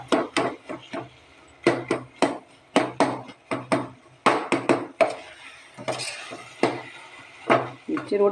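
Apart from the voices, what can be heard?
stirring banana, flattened rice, coconut and jaggery in pan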